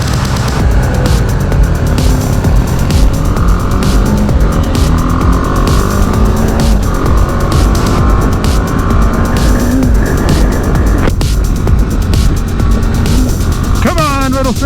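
A BMW G 310 GS single-cylinder motorcycle runs at full throttle, a loud, close, continuous engine drone under heavy wind rush, rising in pitch through the gears, with a voice speaking over it.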